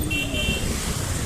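Car horns honk in busy road traffic in Boudh, a sustained tonal blare over a dense, steady rumble of engines and street noise.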